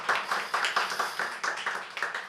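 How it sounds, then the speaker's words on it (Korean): A small audience claps after a lecture on Hong Kong noir films, a brief run of quick, fairly distinct handclaps from a few people, moderately quiet and with no talk. "마지막 박수로 김성래 선생님 발표를 고맙합니다"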